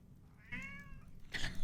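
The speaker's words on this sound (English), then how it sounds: "So I don't know why he's meowing." A cat gives a single clear, drawn-out meow at close range over a low background hum, followed by a short burst of noise, with no talk.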